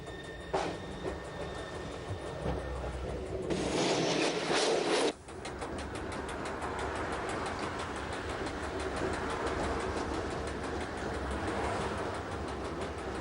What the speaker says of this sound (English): We need to lose 77 meters in height before arriving in St. Gallen station, and rack is used to assist our descent